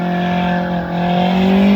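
Car engine revving hard and steady, close and loud, as the car spins free of deep snow on a mountain road in Manali.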